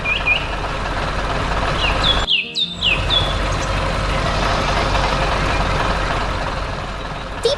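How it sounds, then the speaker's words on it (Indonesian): A gold construction truck pulling a green trailer drones steadily in a farming game, with bird chirps and a few beeps over the engine and a brief dropout partway through. "truk konstruksi warna emas dengan trailer hijau sedang siap bertugas"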